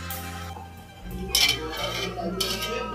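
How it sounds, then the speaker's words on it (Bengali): Metal lid set back onto a cooking pot of butter chicken, a clattering clink and rattle of pots and cutlery at close range, followed by lighter scraping metallic knocks. "তবে ঢাকনাটা দাদা লাগাতেই ভুলে গেছিলো, তাই আমি ঢাকনাটা আবার দিয়ে দিলাম।"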